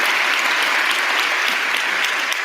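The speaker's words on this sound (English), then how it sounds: "now clapping for no particular reason as far as I can tell" An audience at a TEDx talk claps in a dense, steady burst of applause that holds at full strength from start to finish.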